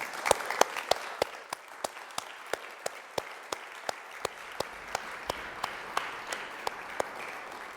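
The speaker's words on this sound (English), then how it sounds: "Please give him a round of applause" A small audience applauds a pianist before a recital of atonal music, with sparse, sharply separated claps ringing out at an even pace over a soft background of scattered clapping, close and crisp.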